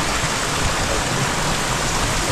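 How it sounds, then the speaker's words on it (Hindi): Water pouring steadily from a spring at the Muktinath temple spouts in the Himalayas, a dense, continuous close-up rush and splash with no pauses and no voices. "ये देखिए यहाँ से पानी आ रहा है"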